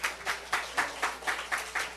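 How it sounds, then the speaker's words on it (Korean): A congregation in a church service applauds, claps coming in a steady, even rhythm, soft and somewhat distant, with no voices over it. "하나님께 박수 올려드립니다"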